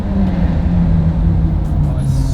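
A Mansory Stallone 812 sports car engine gives a steady, close, low rumble that holds evenly throughout without clear revving.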